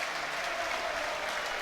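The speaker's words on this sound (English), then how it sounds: "lot of Millwall fans standing up and applauding him as he's taken off on a stretcher" Millwall football fans applauding in a stadium as an injured player is stretchered off, a dense, steady wash of crowd applause.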